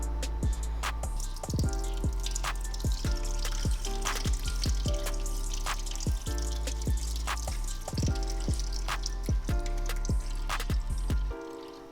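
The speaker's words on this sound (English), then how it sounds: "so now that the coolant is drained" Coolant drains steadily from a Honda Rebel CMX500 motorcycle with close, continuous trickling and quick repeated drips for the full twelve seconds.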